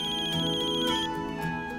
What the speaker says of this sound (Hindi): ये सैमी का वीडियो कॉल, वो भी वैलेंटाइंस डे की रात